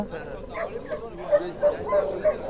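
Turkmen Alabai dog barking at a Fergana dog bazaar: several short, moderately loud barks spaced out over a couple of seconds, mixed into steady conversation nearby.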